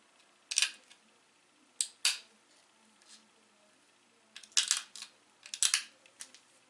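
Flint knapping while trimming a Georgetown biface into a preform: sharp, dry stone clicks and cracks, near and fairly quiet, in irregular bursts of single and double strikes with brief pauses between.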